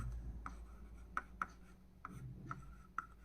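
Pen scratching on paper during a maths lesson, quiet close strokes and short ticks in an irregular rhythm with brief pauses.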